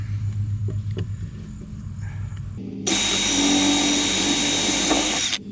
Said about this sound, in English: let's go ahead and let's drill this first hole